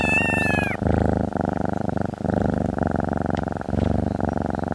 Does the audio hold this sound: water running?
no